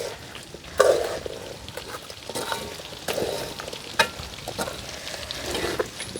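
Fried chicken pieces and sauce are stirred in a pan over sizzling heat, with a spoon scraping in irregular bursts and a steady frying crackle running throughout.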